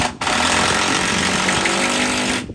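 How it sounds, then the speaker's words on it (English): A loud power drill runs continuously for a couple of seconds, close up, with a harsh grinding buzz as it drives a large lag bolt into a small porch crown, then stops abruptly. "before I drill in one of them first big lag bolts"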